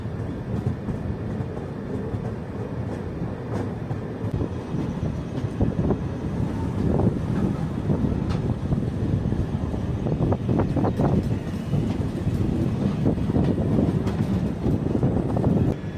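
The Tambaram-Jodhpur Weekly Express rumbles steadily along the tracks, with continuous clattering and rattling plus occasional clanks, loud and close as if heard from inside a carriage.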